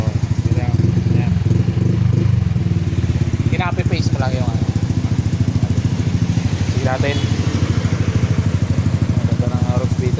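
Yamaha Aerox V3 scooter engine idles close by with a steady, even chugging throb throughout, while someone talks over it.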